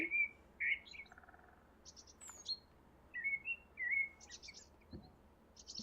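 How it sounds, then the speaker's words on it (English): Birds chirp and whistle in the House Flipper video game, with short bright tweets and trills repeating on and off over a quiet ambient background, fairly clear and close. "Pretty bird."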